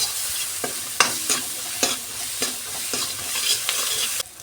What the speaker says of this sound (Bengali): এবার ভালো করে নেড়ে চেড়ে কষিয়ে নেব মশলাগুলোকে